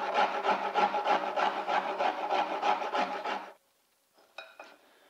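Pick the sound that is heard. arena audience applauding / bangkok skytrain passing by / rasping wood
rasping wood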